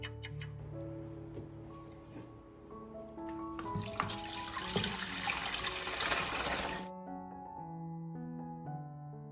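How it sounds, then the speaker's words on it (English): Tap water runs in a steady broadband rush for about three seconds mid-clip while lemons are rinsed in a kitchen, with faint background music before and after the flow stops. "rinse them under clean water"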